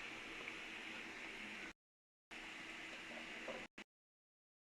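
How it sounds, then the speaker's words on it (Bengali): Potatoes fry in hot oil until browned, a steady close hiss and soft crackle that cuts out to silence twice in between bursts. "আলু লাল করে ভেজে নিছি"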